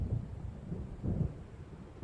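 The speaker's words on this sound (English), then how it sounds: "It seems there's a storm coming." Low rolling thunder of an approaching storm over open water in the Alan Wake video game, two dull rumbling swells over a steady low background, with no voices.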